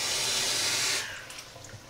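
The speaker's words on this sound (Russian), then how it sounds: "наберем вот это вот в этот стаканчик воды из-под крана" Tap water runs under about three atmospheres of pressure into a small cup, a loud steady hissing gush that drops off abruptly partway through to a quieter trickle.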